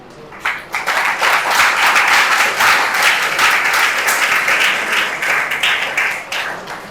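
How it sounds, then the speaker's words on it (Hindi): A school audience at a house debate competition claps loudly and steadily for the four houses, the dense applause rising quickly and holding strong before tapering off near the end. "सबके लिए एक जोरदार तालियां"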